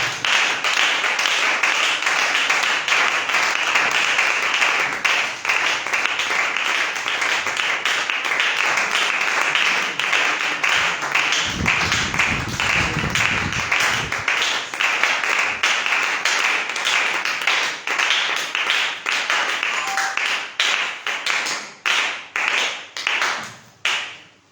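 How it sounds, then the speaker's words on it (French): Sustained loud applause and cheering from a church congregation greeting Pastor Serge Bandeko, a dense wash of clapping that holds steady and then thins into scattered claps toward the end. "Sous vos acclamations, nous recevons le pasteur Serge Bandeko"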